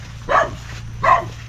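Two sharp dog barks about a second apart, fairly close and clear over quiet background hum.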